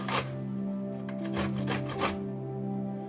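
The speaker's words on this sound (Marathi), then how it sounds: "असे आवळे किसून घ्यायचे" Raw amla being grated by hand, a steady rasping scrape with a few louder strokes over a constant low hum from nearby.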